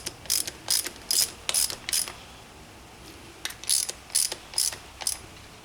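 A ratchet fitted with a 3-inch extension tightens small intake bolts on a Yamaha Banshee with a billet intake and a stock-cylinder engine, giving close, crisp bursts of rapid clicking in two groups separated by a short pause.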